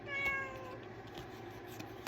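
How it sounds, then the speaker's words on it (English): A house cat gives one clear, close meow at the start, trailing off into quiet room tone with a soft bump at the very end. "I am in the way for the cat."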